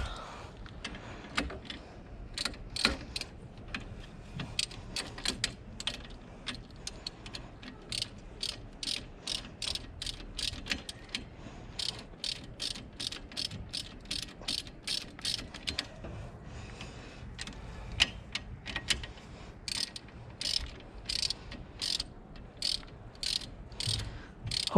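A hand ratchet tightens a 13 mm caliper bolt on the brakes of a 2019 Dodge Charger Hellcat, giving rapid bursts of sharp clicking repeated in steady strokes, close and crisp over a quiet background.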